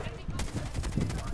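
Rapid gunfire crackles in the mobile shooter game Call of Duty Mobile, a quick run of sharp shots at moderate level, mixed with game sounds and a voice.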